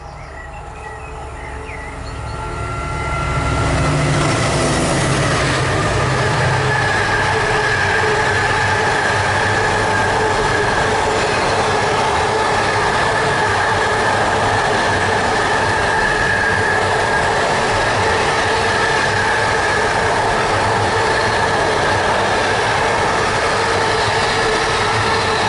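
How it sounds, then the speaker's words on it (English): A goods train approaches and passes close by, a loud steady rumble of freight wagons with squealing wheels building after a few quiet seconds and continuing throughout, with insects chirping faintly behind. "I can hear there's another train coming."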